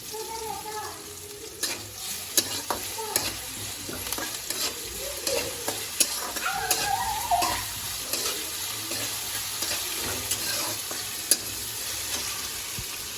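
Onions with garlic-ginger paste sauté in a pan, a constant sizzle broken by frequent scraping stirs and clinks. Faint running water sounds in the background.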